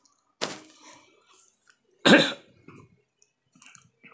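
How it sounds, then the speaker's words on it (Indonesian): Two sharp coughs a second and a half apart, close and fairly loud, followed by a few small throat noises in an otherwise quiet room. "Sampai batuk teman-teman ya."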